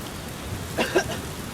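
Rain falling at night in a Zelda video game, a steady soft patter throughout with a couple of brief brighter taps near the middle, no talk.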